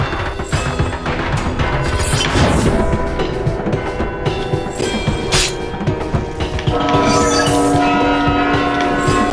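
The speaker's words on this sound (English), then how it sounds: "when you hear those bells, that means someone got their residence" Bells ring loudly in the Roblox game Deepwoken, overlapping metallic peals with a long ringing sustain, layered over booming, crashing game sounds and no talking.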